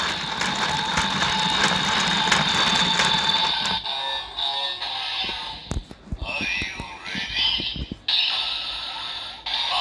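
A toy DX Bat Engine Fullbottle from Kamen Rider Build is shaken up close: a dense mechanical rattle and whirring for several seconds, then quieter bursts of clicking and scraping as the plastic bottle moves.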